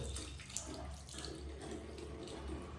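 Water runs into a pan of milk curdling into chhana as a faint, steady, low rushing flow with no clear breaks.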